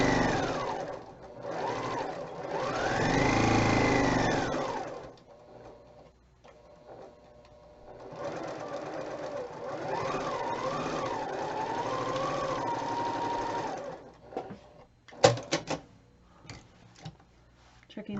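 A sewing machine stitches the last seam of a quilt: motor whines that rise and fall in speed over several close bursts, followed by sharp clicks and knocks near the end.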